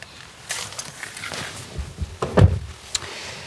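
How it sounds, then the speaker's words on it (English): The wide rear doors of a Skoda Kodiaq SUV open with a soft latch click, a brief rustle and a muffled thud, close and fairly quiet, followed by a light tap. "Let's check out the rear, accessed through these wide opening doors."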